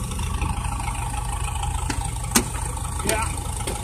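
A 1980 Case 480D backhoe's diesel engine idling after an extremely cold start, a constant loud rumble close by with a couple of brief knocks and clatters over it.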